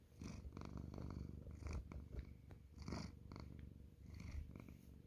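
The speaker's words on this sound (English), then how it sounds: "Who's purring?" Buster the cat purrs up close at home, a soft, continuous rhythmic rumble that swells and eases with each breath, heard alone without any talking.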